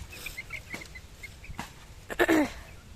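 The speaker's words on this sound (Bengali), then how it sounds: "এ দেখো মুরগিদের খাবার দিচ্ছে।" Chickens in a farmyard cluck and chirp softly while being fed live fish, with a louder, closer burst of clucking near the end.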